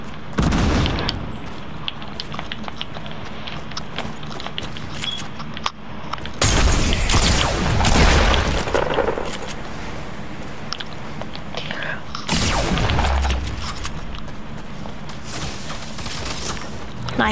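Impulse grenade blasts and gunfire in Fortnite, loud dense bursts of explosive noise filling the clip, with a couple of especially heavy booms partway through and game sounds churning continuously beneath.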